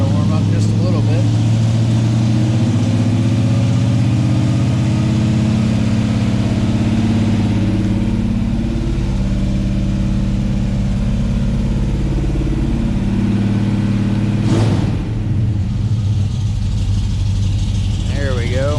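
A Dodge Scamp's engine, revived after sitting for 16 years, idles steadily as it warms up on a cold day, with a loud, even low rumble throughout and a brief louder burst near the end.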